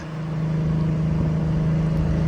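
A turbocharged Acura Legend accelerates with a steady, loud engine drone that builds slightly and holds, close up from inside the car, with no talk.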